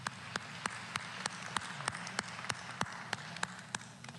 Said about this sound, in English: Ladies and gentlemen, a round of applause for them